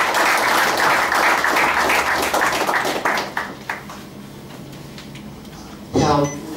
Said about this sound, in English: we want to give MD another round of applause